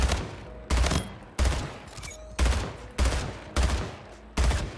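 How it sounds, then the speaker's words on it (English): Burst-fire BR rifle shots in the video game Splitgate, seven sharp evenly spaced bursts with quick decays, loud and close, no talking. "when I click the button to shoot"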